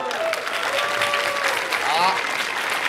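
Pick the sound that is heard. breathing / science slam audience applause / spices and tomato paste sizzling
science slam audience applause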